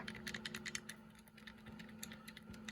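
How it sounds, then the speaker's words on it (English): A button being pressed on a collector's modded device, giving quiet, rapid clicks in irregular bursts against a steady low hum. "And this is how the button sounds like."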